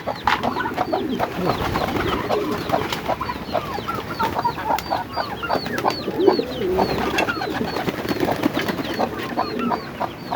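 A flock of pigeons feeding coos and burbles continuously, many birds overlapping at close range, with soft rustling and a few clucks mixed in.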